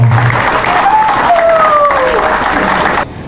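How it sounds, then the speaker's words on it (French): Applause for the Prime Minister at a diploma ceremony comes as a loud, continuous crowd sound with a faint tonal whistle running through it, then it drops off sharply near the end. "Monsieur le Premier ministre, nous vous applaudissons."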